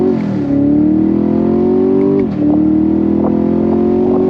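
A 2021 Chevy Camaro Shock & Steel Edition V8 muscle car accelerates hard on throttle, its engine note climbing loudly, dipping briefly at a gear shift, then rising again close by.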